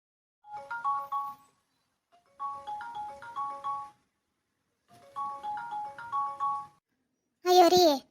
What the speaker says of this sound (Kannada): ಅಯ್ಯೋ ರೀ, ನಮ್ಮ ತಮ್ಮ ಫೋನ್ ಮಾಡಕತ್ತೇನ್ರಿ